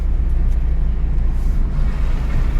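A car engine revs during a driving lesson in fourth gear, a low steady rumble held close and loud for a couple of seconds with no talking over it.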